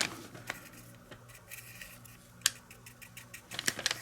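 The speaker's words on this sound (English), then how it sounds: "if I have an old cheap brush, I'll just cut it so that I get a bit of a fan" Scissors snip the bristles of an old cheap paintbrush into a fan shape for painting a Takom AMX 13/75 scale tank model: quiet, scattered crisp clicks that bunch into a quicker run of snips at the end, with no talking.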